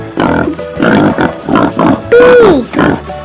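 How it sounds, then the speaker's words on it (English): A pig grunts in a series of loud, close, rhythmic snorts, followed by a higher squealing call that slides downward at the end. "pig."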